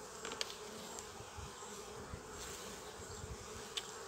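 Honeybees buzz steadily around an open beehive during a hive inspection, a continuous close insect drone with a few sharper passes near the microphone and no talking.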